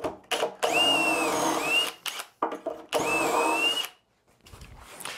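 Power drill boring holes in construction lumber for a simple bed frame, two sustained whining runs with rising and falling pitch, separated by brief pauses and short motor bursts, close and loud.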